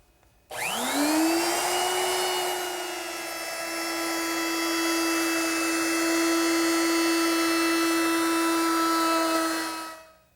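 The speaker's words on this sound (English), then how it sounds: "Now I'll round over the top edge with a 3/8 inch radius rounding over bit." A router with a 3/8 inch radius roundover bit spins up to a steady high whine while rounding over the top edge of a wooden tabletop, loud and close, then cuts off at the end.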